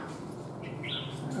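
A newly arrived wild Chinese hwamei (họa mi) songbird gives a brief, faint, bright whistled phrase, quiet and short against a steady background hum.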